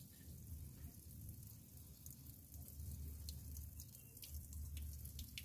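Murky coolant water drains from a car radiator in a steady, continuous gush. It sounds quiet and low, with faint splashy detail, and there is no talk.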